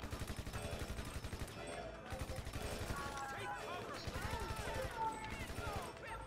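Bursts of rapid automatic gunfire in Grand Theft Auto, repeated quick volleys mixed with other game noise at moderate level, with no talking.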